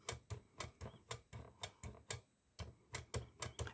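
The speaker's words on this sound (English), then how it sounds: "That noise you hear is these little prongs." Small metal prongs of a stencil cutting tool click in a quick, steady run of sharp taps at close range, with a couple of short pauses between bursts.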